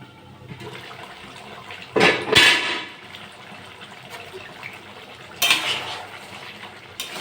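Chicken being stirred and sautéed in a pan, with two loud bursts of scraping and clattering against the pan over a low background sizzle.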